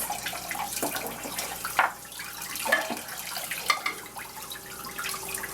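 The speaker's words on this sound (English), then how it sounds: "So what I'm gonna do is I'm just gonna rinse this off, especially like little bone particles and stuff." Bones for a Korean bone broth rinsed under a running kitchen tap, a steady close stream of water with splashes and knocks as the bones are turned in the sink.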